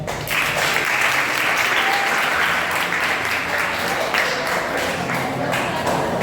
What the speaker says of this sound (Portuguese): Muito obrigada, pode aplaudir a história.